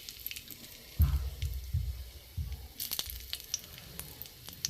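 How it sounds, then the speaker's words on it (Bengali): Cinnamon, cloves and cardamom crackle in hot ghee in a pan, with soft low sizzling and scattered small pops close by. "এতে আমি দারচিনি, লবঙ্গ, এলাচটা ফাটিয়ে দেবেন, নাহলে ফাটবে।"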